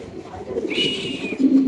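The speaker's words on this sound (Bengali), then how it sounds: "এটা হচ্ছে কি আমেরিকান নান আমেরিকান একটা নান কবুতর" An American nun pigeon at a pigeon market gives a soft, close coo that swells briefly and fades, with a low murmur of the surrounding crowd behind it.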